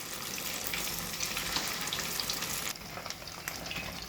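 Semiya coconut punugulu fry in hot oil with a steady, dense sizzle and crackle throughout, close and fairly loud, with no talking over it.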